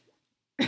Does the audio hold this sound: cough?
yes